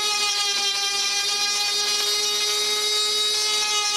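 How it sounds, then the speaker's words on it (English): A rotary carving burr grinds into a wooden dog treat bowl, giving a steady, loud, high-pitched whine with a constant tonal drone that holds unbroken throughout, close up. "So I get one of my carving burrs and finish the job with it."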